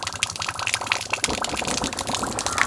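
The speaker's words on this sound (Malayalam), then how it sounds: "ആദ്യം വെള്ളം ഓണാക്കണം" Water rushes steadily through a pipe outdoors, a continuous broadband hiss and gush at moderate loudness with no voices.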